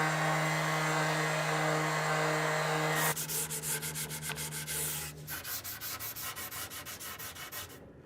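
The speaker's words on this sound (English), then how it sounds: "all we need to do to prepare the piece is to sand it with some 400 grit" Hand sanding an old pine wood piece with 400 grit sandpaper: a steady close rubbing hiss over a background hum, then a run of rhythmic back-and-forth strokes that gradually ease off.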